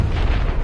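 A bomb explodes in the video game War Thunder, a short deep rumbling boom that fills the low end, loud and close, with no talk over it.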